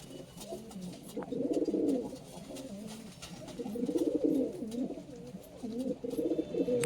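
Large pigeons, a male and female pair, coo nearby in repeated low throaty bursts with short pauses between them, plus faint clicks and rustles in the background and no talk.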